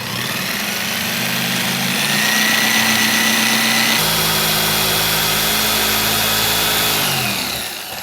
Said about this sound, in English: now cut along the line to remove the interior piece of the wall